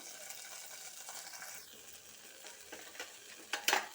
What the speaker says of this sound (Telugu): మిరపకాయలు వేగినాయండి సరిపోతుంది ఎర్రగా ఉన్నాయి కదా